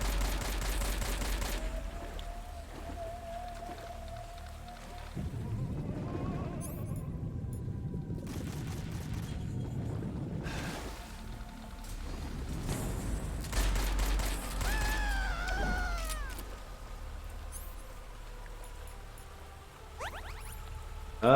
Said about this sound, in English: AK-47 time.